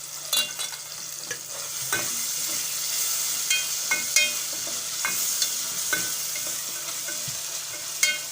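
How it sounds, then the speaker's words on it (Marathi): Fresh coriander crackles in hot oil tempering for Schezwan chutney, a steady close sizzle punctuated by frequent spatula clicks and scrapes as it is stirred, with no talking. "मी अशी कोथिंबीर त्या तेलाच्या फोडणीमध्ये घालत आहे"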